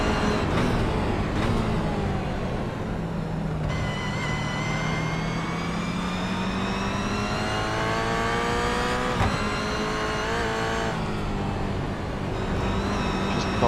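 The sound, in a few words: Toyota 86 race car lapping Brands Hatch, onboard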